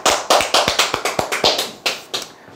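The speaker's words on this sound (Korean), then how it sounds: "박수 한번 치시죠." A small audience claps at a Korean sales-coaching seminar, about a dozen separate sharp claps in a loose uneven rhythm, close and fairly loud, with no talking over them.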